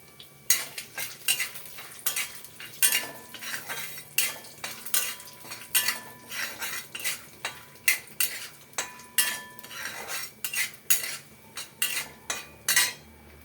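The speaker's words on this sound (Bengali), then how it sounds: "বাদাম দিব অল্প, বাদামটা আগে একটু ভাজা ভাজা করে নিই" Peanuts fry in oil after a cumin tempering, under a soft steady sizzle broken by repeated close scrapes and clinks of a spoon stirring against the pan.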